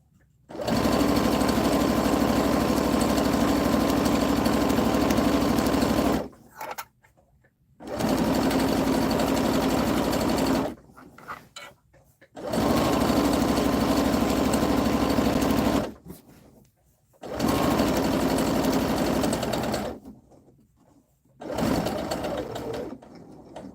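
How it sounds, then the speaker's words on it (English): A serger sewing machine runs in loud, steady bursts of several seconds each, stopping and starting again with short silent gaps between runs, heard alone without talk. "I'm pushing the pedal for my serger"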